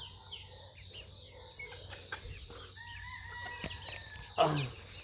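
A rooster crows among clucking chickens outdoors, with crickets chirping steadily underneath and a brief louder call near the end.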